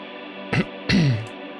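Ambient drone made from AI-generated material resampled twice through heavy reverb, a steady washy bed interrupted by two sharp swelling bursts that bloom and sweep downward before settling back into the sustained hum.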